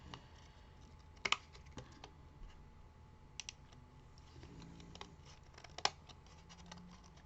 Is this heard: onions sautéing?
no